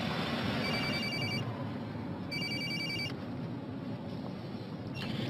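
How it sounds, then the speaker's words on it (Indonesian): A mobile phone rings with a repeating electronic ringtone in bursts, loud and close, set against a steady background hiss with no talk over it. "HP-nya bunyi, bos."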